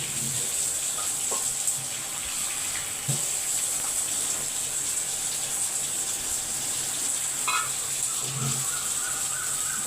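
Water poured steadily into a bowl of red chili powder, turmeric and salt, a continuous faint trickling gush with a couple of light clinks, no talking.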